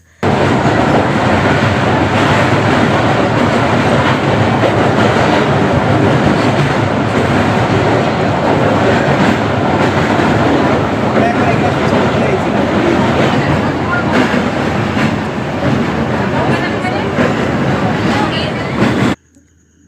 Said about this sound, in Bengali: তখনই বন্দে ভারত ট্রেনটা এটা হাওড়া পুরী বন্দে ভারত